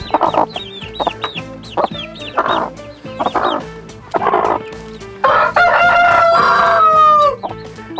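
A broody hen clucking close by in summer heat, a run of loud, repeated throaty clucks and drawn-out calls in an uneven rhythm, rising into a longer agitated cackle near the end.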